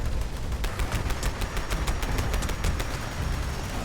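Rapid, evenly spaced gunshots ring out in Fallout 76, a steady volley of about a dozen loud reports over continuous combat background noise.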